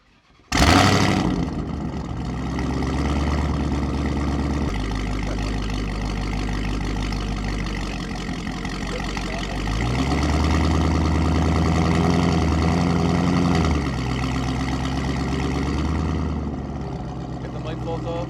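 Dodge Challenger Hellcat Redeye fitted with a new exhaust, firing up loudly and then running with a heavy, steady roar that swells around the middle, close to the car.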